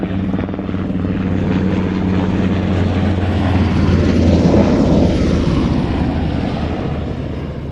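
A German Army NH90 helicopter passes at an air show, its rotor and engine roar building to a loud peak midway and then easing off as it moves on, steady and continuous without talk.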